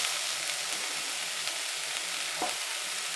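Diced pumpkin stirred in a hot pan, a soft steady sizzle with faint scraping and occasional light clicks of the spoon, quiet and close, no voices.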